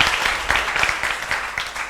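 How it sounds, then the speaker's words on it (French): An audience applauds for a child at a kindergarten gathering in Bondoukou, a brief burst of steady crowd clapping that stays fairly loud throughout. "Bravo, on applaudit également pour lui."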